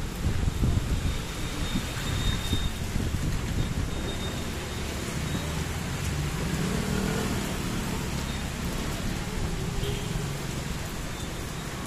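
Heavy rain with strong wind while stranded outdoors, a constant loud roar of downpour and gusting wind buffeting the microphone, with a low rumble of passing traffic throughout.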